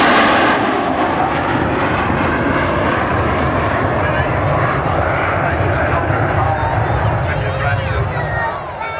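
A British aeroplane at a flying display at Church Fenton gives a loud, sustained engine roar and howl that fills the whole stretch, with a voice talking over it.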